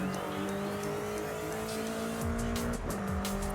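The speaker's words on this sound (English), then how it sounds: "4-wheel skids is generally not the way to do it." A Ferrari in the racing game Forza Horizon 5 drifts in a four-wheel skid, its tires squealing steadily over a loud, sustained engine drone with a shifting pitch, constant and close throughout.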